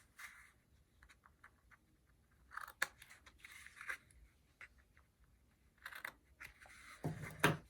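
Scissors snip in quiet, irregular bursts of short crisp cuts, some rapid clusters, with soft rustling of material in between and a louder crunch near the end.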